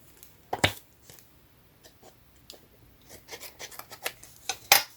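Scissors cut through an envelope in short, crisp snips and rustles close by. A sharp cut comes early and a loud burst near the end, with paper handling between and no talking.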